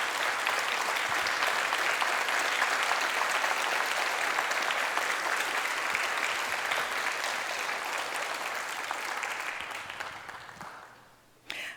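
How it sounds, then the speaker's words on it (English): A warm, sustained round of applause from a church congregation, dense and even for about ten seconds before fading out quickly at the end. "Will the Meditative Life Ministry participants stand and give a warm, loving round of applause"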